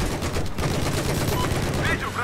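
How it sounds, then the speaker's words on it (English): Gunfire from a Battlefield 4 match in a large Operation Firestorm map, a dense, continuous burst of shooting with rattling automatic fire and explosions, while players talk over it. "See where I'm shooting?"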